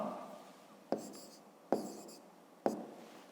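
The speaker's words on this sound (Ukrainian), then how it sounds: "Далі пишемо ІА" Pen writing on paper for a math exercise, close scratchy strokes in three short bursts, each starting with a sharp tap, no talking.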